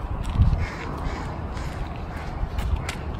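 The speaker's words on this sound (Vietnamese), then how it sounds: "Tiếng con chim đó, nó hót đó." A crow caws loudly nearby in a residential neighborhood, then gives fainter caws and calls amid light outdoor background noise.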